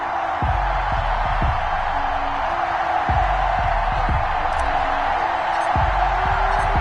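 Stadium crowd noise in an EA Sports football video game for a Pittsburgh Steelers versus Seattle Seahawks matchup, a loud steady roar of cheering with bursts of low thumps throughout.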